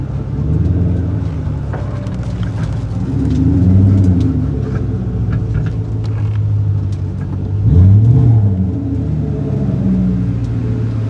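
A turbocharged Coyote V8 in an S197 Mustang rumbles steadily as it drives slowly back home, with a deep low drone that swells twice into brief throttle surges, no talking.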